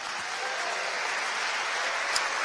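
A church congregation claps during a Spanish-language sermon, a steady, dense wash of applause that stays even and fairly loud throughout the short stretch.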